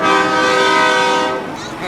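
Kenworth truck air horn blaring in one long, loud, close blast at a town parade, a rich harmonic tone that fades slightly toward the end.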